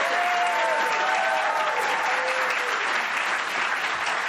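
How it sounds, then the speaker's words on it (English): A studio audience breaks into steady, dense clapping from many hands, with a few voices faintly calling out beneath the applause. "I'm always touched when they applaud my questions."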